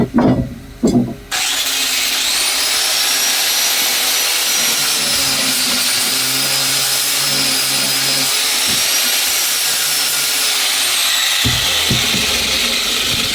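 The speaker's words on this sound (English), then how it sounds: "I always like to clean off this area here a little bit, the grinder. So we'll hit that for a second." A bench grinder whirs steadily and loudly for over ten seconds, used to clean off the work area before sharpening a lawn mower blade, after a few short knocks and a startup at the beginning.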